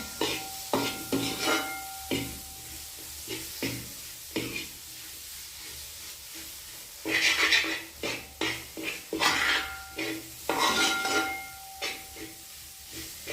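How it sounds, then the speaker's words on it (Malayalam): Tomatoes sizzle in a pan of chicken curry base, with repeated scraping stirs and clinks of a utensil against the pan over a soft, steady frying hiss. "ഇനി നമ്മൾ തക്കാളിക്കായിടുവേ ഇതിനകത്തിലേക്ക് തക്കാളിക്ക നല്ലവണ്ണം ഒന്ന് വഴകണം"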